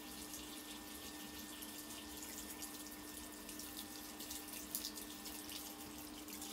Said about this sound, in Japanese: ここで洗うから、こうやって洗うから